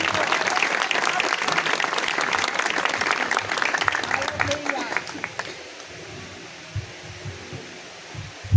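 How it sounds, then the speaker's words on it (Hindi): Loud applause from a congregation at a Christian healing service, honoring a hymn just sung; steady crowd clapping for about five seconds that then fades into a low murmuring room with scattered thumps. "आए इस कलाम के लिए जोरदार तालियां"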